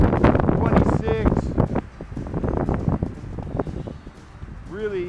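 Strong, gusty wind of roughly 25 mph buffets an outdoor microphone, a constant rumbling roar with surges, while a person talks over it throughout.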